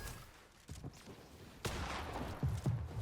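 Pump shotgun blasts from a Fortnite match ring out in a few sharp, fairly close bursts spread over a few seconds, with lower rumbling thumps between them and no talking.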